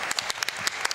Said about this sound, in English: so clap for that, please